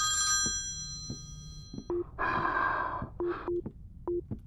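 A telephone rings in a horror video game, several short repeated trill bursts alongside steady high electronic tones, fairly close and loud with no talk over it.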